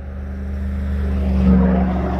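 A car or truck passes by close to the microphone, a steady low engine rumble and road roar that swells slightly toward the middle and eases off, with no talking.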